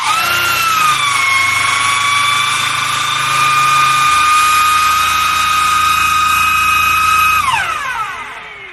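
A Chevrolet Corsa Classic engine with an abnormal noise and the battery warning light on is revved and held at high RPM as a loud, steady whine, then drops away near the end.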